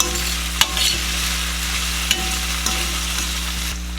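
Collard greens and other food frying and sizzling in a pan, with a steady hiss underneath a few sharp clicks of a utensil stirring, close and unaccompanied by talk.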